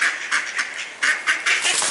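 Ducks being fed quack repeatedly in short, bright bursts, several calls overlapping close by with no talk.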